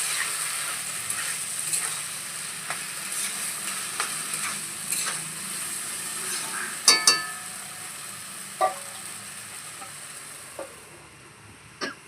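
Boiled papaya flower stirred into a frying pan, a low steady sizzle with scattered scrapes and a few sharper clacks of the spatula against the pan, close and moderately quiet.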